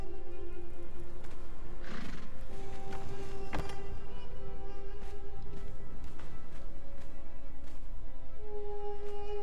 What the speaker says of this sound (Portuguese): Tem um cavalo ali embaixo